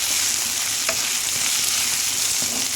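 Egg and capsicum frying in a pan, a steady, close sizzle with faint stirring ticks running alone throughout.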